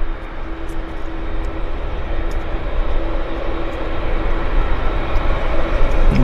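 A Q400 turboprop airliner roars down the runway on takeoff at Vancouver Airport, a steady loud engine drone that swells slowly as it climbs, with no talk over it.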